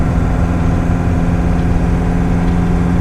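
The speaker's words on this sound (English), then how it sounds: "just listen how the engine is pulling up this mountain" An old Mercedes W115 220D diesel engine drones steadily at low pitch under load while climbing a mountain, a constant rumbling hum with no pauses and no voices.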